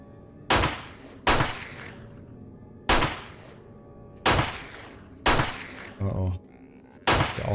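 Pistol shots fired at a wild boar in the video game 7 Days to Die: six or seven sharp, loud reports at uneven intervals, each with a brief decaying tail, plus a short mechanical clatter between the last shots.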